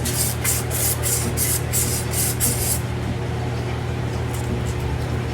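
Sandpaper is rubbed by hand over a rusty, powdery metal part on a Baja Bug build, a quick series of rhythmic scratchy strokes up close followed by a softer steady rasp.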